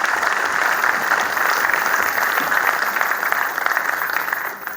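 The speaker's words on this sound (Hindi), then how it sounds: "पूरा सदन तो जोरदार तालियों में आवाज दे" Enthusiastic audience applause fills a hall at a Teacher's Day comic poetry gathering, loud and sustained for several seconds, a dense steady patter of many hands that eases slightly toward the end.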